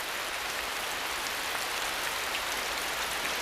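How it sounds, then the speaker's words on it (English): Rain falling on a forest canopy makes a steady, dense hiss of drops on leaves, even and unbroken throughout, with no voices. "canopy of the forest breaks the force of the rain and stops it from washing the topsoil away."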